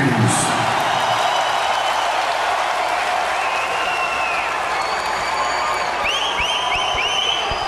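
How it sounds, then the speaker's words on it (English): A big concert crowd at a show in San Jose's Compaq Arena claps and roars in a loud, continuous wash, with scattered whistles and shouts rising above the noise. "give yourself a round of applause, please"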